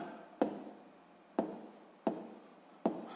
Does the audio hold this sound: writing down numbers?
yes